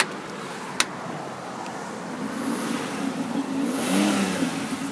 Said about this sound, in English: I'll let you hear the engine run.